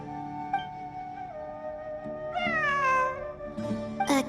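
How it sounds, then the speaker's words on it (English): A cat meowing in Genshin Impact, a few drawn-out meows with rising and falling pitch, one longer cry in the middle and a sharp short one near the end, clear and alone over faint background music. "It really is a cat."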